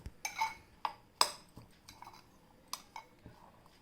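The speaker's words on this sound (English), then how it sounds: "Now add the salt and mix well" Onion sandwich filling being mixed with salt in a bowl, a spoon clinking and tapping against the dish in irregular, sharp, close knocks separated by short pauses.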